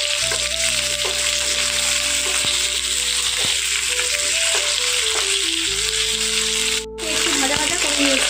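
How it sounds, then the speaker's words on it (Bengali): Potato pieces fry with a black cumin tempering in a pan, giving a steady close hiss with occasional stirring knocks, under a sustained tonal background. "আলুটাকে সামান্য নাড়াচাড়া করে নেব।"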